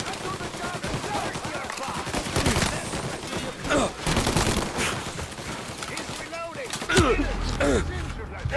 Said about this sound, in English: Plug these greasers, Tommy. Take them all out